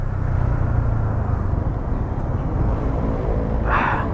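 Yamaha MT15 motorcycle engine while riding, a steady low rumbling drone with wind noise, loud and close throughout, ending with a brief brighter burst near the end.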